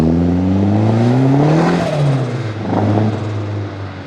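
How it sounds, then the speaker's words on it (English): A Nissan-Honda swapped JDM mini truck revs hard while accelerating, its engine note rising steadily in pitch, then breaking up briefly before settling; loud, close and continuous, with no speech. "This car sounds so cool."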